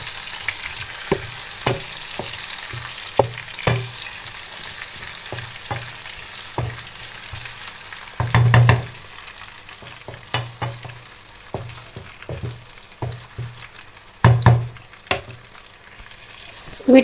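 Onions and tomatoes fry in a pan for a potato and green bean sabzi, a steady soft sizzle close by, broken by occasional spoon clinks and stirring scrapes, with no talking.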